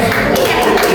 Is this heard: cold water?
no